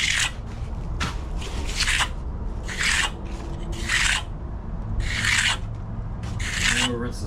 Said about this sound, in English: Starting to trowel it out now.